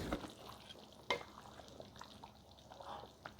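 A spoon stirs through thick mutton kuzi curry in a pot, soft scraping and sloshing with a sharper clink near the start, quiet and close.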